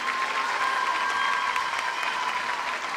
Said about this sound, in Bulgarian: Сега искам аплодисменти за нея.